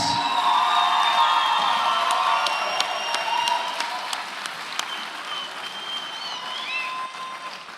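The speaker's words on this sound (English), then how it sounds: "A massive round of applause for both these ladies." An arena crowd at a women's professional fight event gives loud, sustained applause with scattered cheers and whoops, which slowly fades over several seconds.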